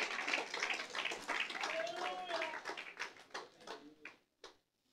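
A church congregation gives thin, scattered applause during a sermon. It fades over a few seconds into a handful of last isolated claps, and a voice briefly sounds over it.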